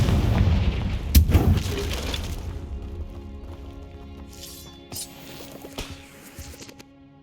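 A Confringo blasting spell in Hogwarts Legacy: a deep booming explosion that rumbles and fades, followed by scattered smaller cracks and pops of debris, fairly near.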